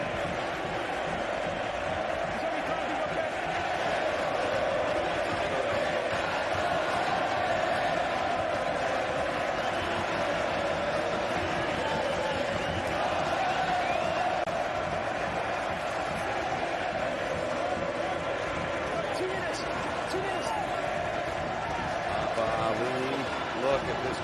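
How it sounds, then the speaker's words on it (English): A large stadium crowd at a Chile versus Samoa rugby match, a dense, loud, continuous roar of many voices with swelling murmurs and shouts, sustained throughout and heard over commentary. "Look at this crowd. Listen to an amazing atmosphere."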